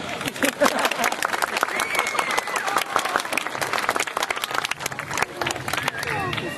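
Loud, continuous applause from a large crowd at a sea lion show, steady throughout with some cheering and voices mixed in.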